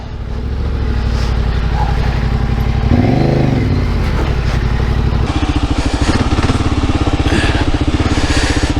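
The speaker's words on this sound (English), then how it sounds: "you're riding a single track on a 460-pound motorcycle" A 460-pound adventure motorcycle labors along a narrow single-track dirt trail, its engine droning loud and close throughout with a rhythmic pulsing exhaust, revving up and dropping back as the rider works through the terrain.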